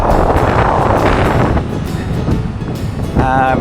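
Strong side wind buffets a microphone on a bicycle during a gravel ride, a constant loud rumbling roar with gusty surges throughout.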